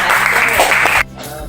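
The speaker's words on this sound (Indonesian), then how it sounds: "Kita beri aplaus pada kelompok yang" A classroom gives a presenting group a burst of applause, loud and close with brisk clapping for about a second before it stops abruptly.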